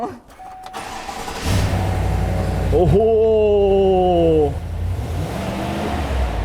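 A Chevrolet Silverado's 6200cc, 420 hp engine revs up through its exhaust in a single loud, rising-and-falling burst. The idle rumble resumes afterwards, and a person exclaims briefly near the start.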